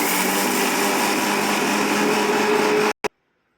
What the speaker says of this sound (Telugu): ఇప్పుడు ఇదంతా మిక్సీలో వేసి ఒకసారి మిక్సీ పట్టేసుకుందాం ఒకసారి.